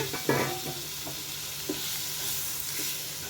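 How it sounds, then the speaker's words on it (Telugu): Boiled mutton tripe sizzles in a pan with spices and coriander powder while being stirred, giving a steady frying hiss with a few soft scraping strokes. "ఇది చక్కగా ఫ్రై అనండి, బోటి ఫ్రై."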